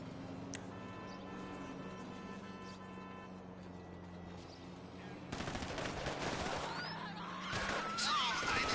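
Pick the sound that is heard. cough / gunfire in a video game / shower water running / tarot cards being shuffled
gunfire in a video game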